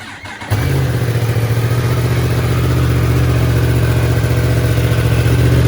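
A 2021 Yamaha R1 sport motorcycle with stock exhaust cranks and starts, then settles into a loud, steady, throaty idle close by.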